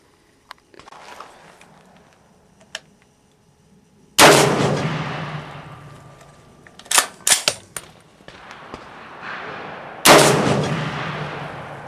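Three sharp, loud 300 AAC Blackout rifle shots from a 16.25-inch barrel loaded with IMR4227 powder, each a hard crack with a long decaying echo. Small clicks and handling noises come between them, and no one speaks.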